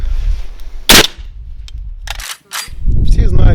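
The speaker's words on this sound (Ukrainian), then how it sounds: "просто робимо постріл перед ногами" A single sharp, loud gunshot from an unsuppressed Kalashnikov rifle, fired at the ground in front of the shooter's feet, cracks out close by, followed by fainter clicks and a brief burst of voices and movement.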